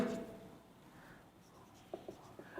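Marker or chalk writing on a board during a chemistry lecture, a few faint short scratchy strokes near the end, mostly quiet room tone.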